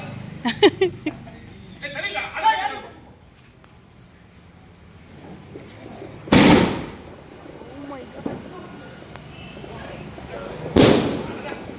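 Firecrackers burst during a Diwali celebration at home: two loud, sharp blasts several seconds apart, each with a short echoing tail, with people talking nearby between them.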